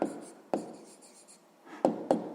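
Pen strokes on notebook paper as numbers are written for a sixth-grade percentage problem, a few short scratchy taps and scrapes, close and quiet, with no voice.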